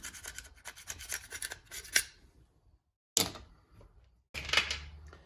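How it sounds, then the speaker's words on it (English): Old gasket maker being scraped off an Eska 4.5 hp outboard motor, a quick rasping run of strokes followed by pauses and two more separate, close scrapes. "I'm just scraping all the old gasket maker off."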